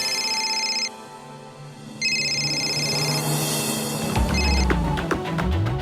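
Telephone ringing indoors in a television drama: two bursts of electronic ringtone trill at medium loudness, a third brief ring fading out as rustling and movement noise take over.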